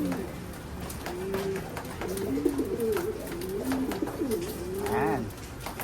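Pigeons kept in double breeder cages in a loft coo repeatedly in rolling, throaty phrases, close by, over a soft background of shuffling at feeding time.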